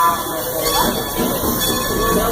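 A Strasburg Railroad passenger train rolls along the rails in Pennsylvania, a loud, continuous rumble with steady wheel noise and faint squealing, heard up close from on board.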